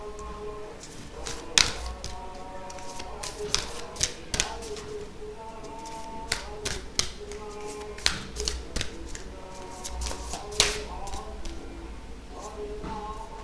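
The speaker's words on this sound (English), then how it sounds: "I don't know if you like to see the shuffling on camera." Tarot cards being shuffled in a quiet room: a steady run of soft papery riffles and taps with occasional sharper slaps as the deck is squared, close and moderately quiet, with no talking.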